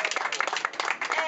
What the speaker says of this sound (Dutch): Krijgt er wel applaus, hè?